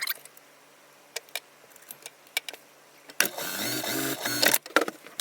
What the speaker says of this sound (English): we're going to sew a 1/2 inch seam allowance